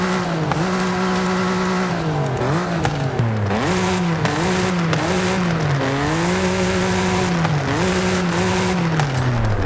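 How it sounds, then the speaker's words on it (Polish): BMW M4 G82 3.0-litre inline-six twin-turbo with a sport exhaust, driven in Forza Horizon 5: a loud, continuous engine note that swells and dips with throttle and gear changes, with tire squeal mixed in. "Czyli mamy trochę bardziej uwydatniony ten dźwięk silnika."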